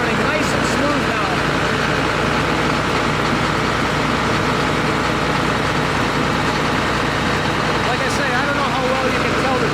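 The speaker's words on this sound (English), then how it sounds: "But that motor is running nice and smooth now." A John Deere 9600 combine engine running smoothly at idle after injector repair and fuel temperature sensor work, a loud, continuous heavy drone with people talking over it throughout.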